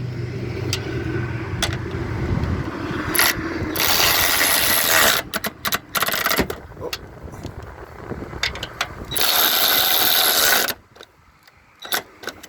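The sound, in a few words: tightening the strut bolts on a Subaru Forester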